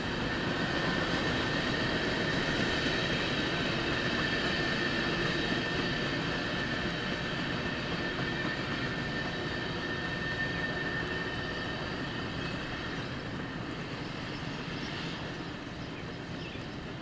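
A CSX Q371 mixed freight train rumbles past at a distance, a steady broadband roar of rolling wagons with faint squealing tones, holding an even, moderate level without speech.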